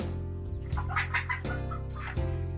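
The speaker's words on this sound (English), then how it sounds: "and the second chicken sound," A second game chicken sound effect: a few clucks and squawks rising over looping background music, short and close.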